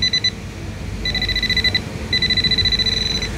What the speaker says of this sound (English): So there's your beeping. It gets faster, and you get a tone when you're right up against it.